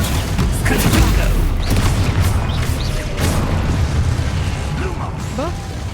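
Confringo fire spell blasting in Hogwarts Legacy, a dense roar of booms, crackling bursts and mechanical clatter running throughout at close range, with brief whooshing effects over the rumble.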